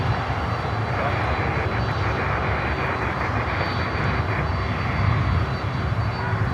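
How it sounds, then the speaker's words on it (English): A Lockheed C-130H Hercules turboprop cargo plane with contra-rotating propellers roars loudly and steadily at Miami airport, a constant dense engine drone with no pauses. "The C-130H. That's the civil version from Lockheed."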